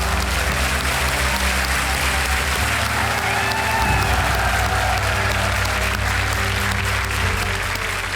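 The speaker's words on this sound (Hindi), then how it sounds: "इन सब का तालियों के साथ अभिनंदन किया जाए।" Studio audience on a televised quiz show set applauding Mumbai fire brigade members, a dense, continuous roar of clapping filling the whole stretch at close range over background music, with no voices.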